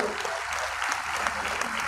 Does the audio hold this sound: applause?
yes